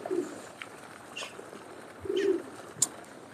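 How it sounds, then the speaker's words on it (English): Pigeons coo in short, low, separate calls outdoors beside a lake where people feed the birds, with other faint chirps and a brief sharp bird call near the end; steady background noise fills the rest. "Here are the pigeons happy out having it."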